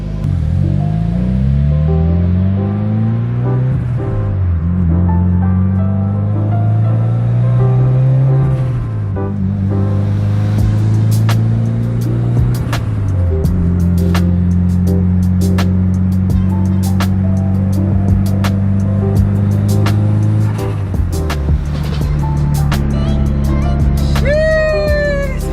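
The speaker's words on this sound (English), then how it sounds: "We are definitely gonna drive the car." A Mitsubishi EVO 8 drives after a transmission rebuild, its engine note sweeping up through the revs and dropping with each gear change, loud and continuous throughout with no talk.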